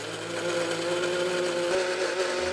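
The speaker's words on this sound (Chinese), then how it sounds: "搅拌莲子的时候，水量要放得恰到好处。" A kitchen blender whirs steadily as it purées soaked lotus seeds with water into a smooth paste for mooncake filling. The motor drones loud and continuous throughout, with no talk.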